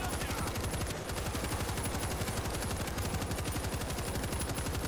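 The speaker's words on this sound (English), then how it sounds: "I'm shooting these swarms" Rapid automatic gunfire in the video game World War Z rattles on without pause, dense and loud, as a player mows down swarms of zombies.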